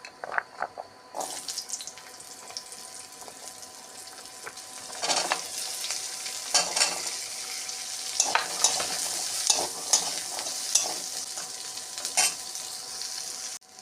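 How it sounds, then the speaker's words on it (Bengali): Carrots fry in oil with a continuous close sizzle and frequent stirring scrapes, quieter at first and growing louder and busier after the first few seconds. "তারপরে গাজরটা ভেজে নেবো"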